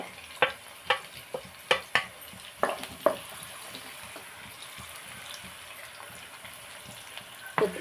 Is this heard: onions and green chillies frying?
yes